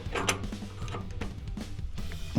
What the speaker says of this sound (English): Just use a little good old-fashioned Harbor Freight crescent wrench.